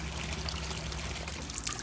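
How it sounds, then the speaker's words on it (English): Artesian spring well water pours steadily into a pot for boiling beer wort, a continuous close, full rushing stream. "5 gallons of the artesian spring well water into a pot for boiling."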